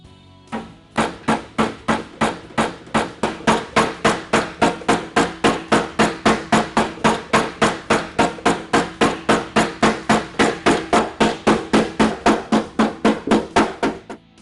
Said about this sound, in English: I'm using a hammer with a slightly rounded face on it.